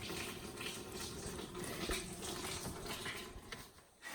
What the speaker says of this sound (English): I want to see that water's going to the drain.